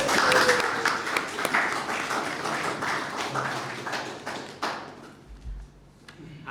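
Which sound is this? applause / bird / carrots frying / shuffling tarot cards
applause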